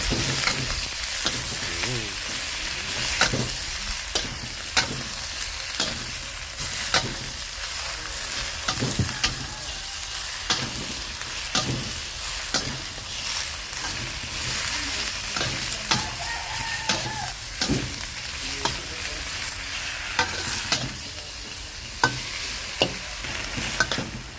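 Chinese kale sizzles steadily as it is stir-fried in a hot wok, a loud continuous frying hiss broken by regular scraping clacks of the spatula against the metal.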